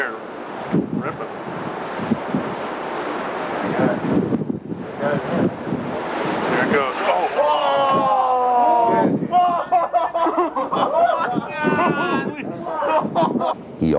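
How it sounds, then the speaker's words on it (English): A roof in Hawaii pulsing and roaring under high-frequency typhoon wind gusts, a continuous loud rushing with surging bursts, overlaid by excited voices talking over the storm. "this pulsating roof in Hawaii during Typhoon Aniki provided an opportunity to study high-frequency wind gusts"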